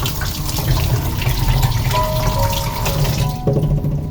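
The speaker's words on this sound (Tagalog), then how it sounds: "hugasan mo muna bago mo hiwain" Tap water runs steadily into a sink while an onion is rinsed under it, a loud close splashing stream that shifts in tone near the end.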